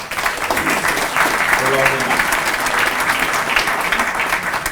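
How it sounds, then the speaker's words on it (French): Audience applause at a gathering on eco-friendly green-space management, a dense, continuous wash of clapping from a sizeable crowd with a voice briefly heard over it. "On peut les applaudir d'ailleurs"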